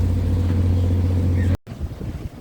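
A car rolls onto a ship, giving a steady low engine rumble over a constant hum that cuts off abruptly near the end and leaves quieter background noise.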